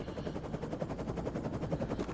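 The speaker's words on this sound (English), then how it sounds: "This gun's hard to aim. The recoil's high." Rapid automatic gunfire from a high-recoil gun in the video game Defiance, a continuous dense rattle of shots that is loud and steady throughout, with no talking.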